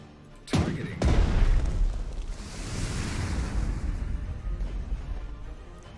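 Cannon fire in the naval strategy game Strategic Mind: The Pacific, during the Japanese campaign's New Guinea mission. A single deep boom hits sharply, then rolls into a long, rumbling decay. No one talks over it.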